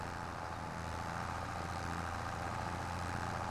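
Tractor engine pulling a seed drill in Farming Simulator 25, a faint, steady low drone with a constant hum and no other sounds.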